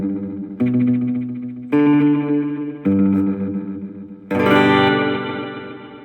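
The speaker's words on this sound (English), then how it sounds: "that to me reminds you a little bit of a church type reverb" Electric guitar chords ring through an M-VAVE Elemental pedal set to a spacious church-style reverb, five strummed chords with long washing tails, loud and alone.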